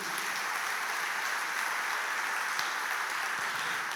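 A church congregation gives a round of applause to Jesus, a steady wash of many hands clapping at a distance, fairly faint and even throughout.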